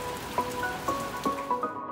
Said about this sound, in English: It's absolutely pissing down rain.